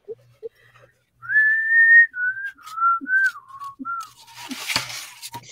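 Person whistling a tune alone, a string of clear melodic notes, some sustained and some short, rising and falling, close and fairly loud, with a few soft thumps in the background.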